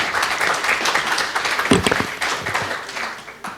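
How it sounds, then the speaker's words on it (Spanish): A crowd applauds a doctor at a book presentation on anthropology, literature and history, with lively, sustained clapping and a brief louder burst in the middle before it thins out. "Les pido un fuerte aplauso para el doctor."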